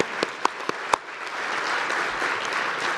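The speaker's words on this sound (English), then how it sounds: "Maybe just a last round of applause to all the presentations here for their excellent work" A conference audience applauds after presentations on connected and automated mobility, starting with a few sharp separate claps that quickly swell into steady, even clapping.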